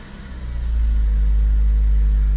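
A Saturn S-Series car engine cranks briefly after a positive battery cable replacement, then catches and settles into a loud, steady low idle rumble close by.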